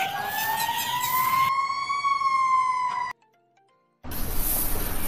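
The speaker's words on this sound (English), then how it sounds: "fire truck." Fire truck siren wailing loudly with a rising, sustained tone and bright harmonics, cut to a brief silence and then a burst of loud noise.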